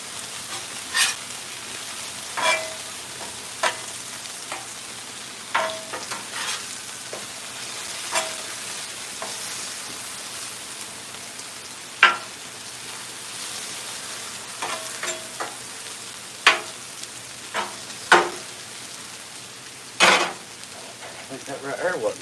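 A steak sizzles steadily on a hot Blackstone griddle, a constant close frying hiss broken by scattered sharp pops, scrapes and clinks every second or two across the whole stretch.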